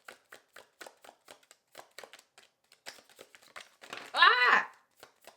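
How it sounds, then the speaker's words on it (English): A deck of tarot cards is shuffled by hand in a quick run of light, crisp riffles and taps, ending in a louder rustling burst, close and alone. "I'm going to shuffle one more time."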